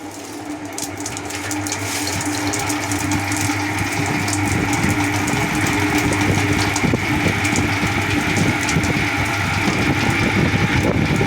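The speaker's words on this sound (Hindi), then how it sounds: "अभी ये हमारा ड्रायर है, हमने ऐसे लगाया हुआ" A papad dryer runs with a loud, steady whirring roar, a constant mechanical drone with airy rushing noise and no pauses throughout.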